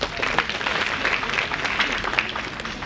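An audience at a conference inauguration ceremony applauds, a continuous patter of clapping without pause.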